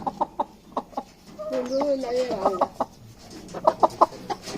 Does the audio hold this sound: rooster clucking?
yes